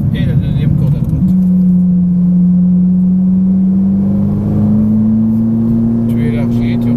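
A Ferrari engine on a track accelerates, its steady tone climbing slowly in pitch after a rough start, loud and close, with someone talking over it.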